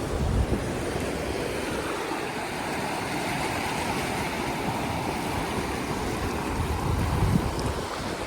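Sea waves washing against the shore, a continuous loud rush of surf mixed with wind buffeting the microphone, no talk.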